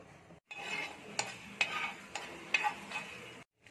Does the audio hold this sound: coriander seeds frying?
yes